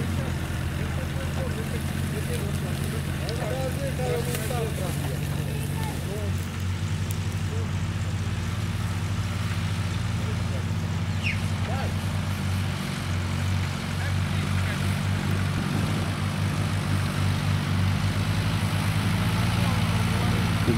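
A steady, loud diesel engine drone from a LuAZ off-road vehicle, low rumbling harmonics holding throughout as it pushes slowly through a bog.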